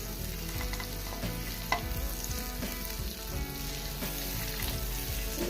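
Butter frying in a hot pan, a steady close sizzle with faint crackles throughout and one sharp tap or pop partway through, no voices.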